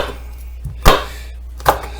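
A kitchen knife slicing jalapeño into thin slivers on a cutting board: two sharp, close chops about a second apart, with quiet between them.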